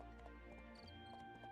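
Horse hooves clip-clop in a steady rhythm as a horse is ridden in the video game My Time at Portia, with quiet game music and faint tones under the hoofbeats.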